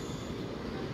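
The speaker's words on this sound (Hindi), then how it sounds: "Express train is moving towards नৈহাটি railway junction." An express train heading toward Naihati railway junction gives a steady, loud, dense rumble of rolling wheels, heard continuously and close.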